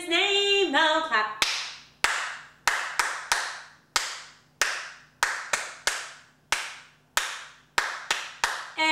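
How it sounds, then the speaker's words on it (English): After a short burst of singing from the children's song Bingo, crisp hand claps follow in quick rhythmic groups, each clap sharp and close, about fifteen in all, with quiet gaps between. "we're gonna clap one, two, three, four, five times"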